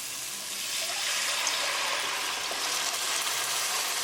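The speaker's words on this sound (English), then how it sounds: "Now add kidney beans." Cooked red kidney beans in their liquid pour into a pan of spiced tadka, a close, steady wet gush and splash lasting a few seconds with no talking.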